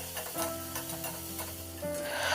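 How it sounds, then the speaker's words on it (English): Ginger garlic paste sautéing in a pan over a medium to low flame, a soft sizzle with scraping stirs from a spoon, heard close and quiet. "we need to saute the ginger garlic paste until the raw smell goes away"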